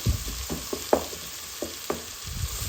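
Spinach and potato curry (aloo palak) stirred in a pan with spices: a soft steady sizzle under several separate scraping strokes of a spoon, close and fairly quiet.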